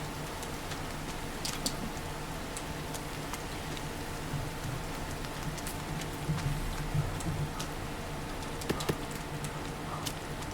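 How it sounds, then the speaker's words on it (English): Steady rain in the survival video game The Forest, a constant hissing patter with scattered sharper drops on surfaces, moderately quiet and unbroken. "It's raining."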